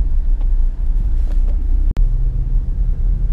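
Toyota Fortuner on a steep, narrow road, its engine giving a loud, steady low rumble with road and wind noise and one sharp thump near the middle.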